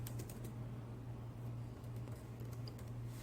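Soft, sparse keystrokes from a computer keyboard as a message is typed, faint and close, set against a steady low electrical hum.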